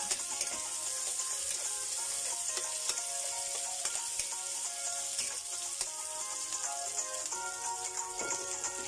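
Onion and garlic sauté in a hot pan while sinigang na bangus is being made, giving a steady, dense sizzle with scattered crackles and stirring clicks, close and continuous throughout with no talking.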